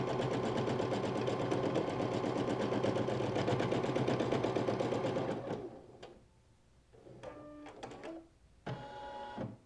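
An embroidery machine stitches freestanding lace ornaments with a loud, steady rapid needle clatter for about five seconds, then stops, followed by a few short mechanical whirs and beeps.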